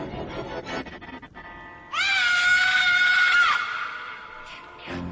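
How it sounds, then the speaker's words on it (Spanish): A loud, sustained high-pitched scream rises abruptly and holds for about a second and a half before fading, with a quiet, noisy background before and after. "Los jóvenes oyeron un grito desgarrador."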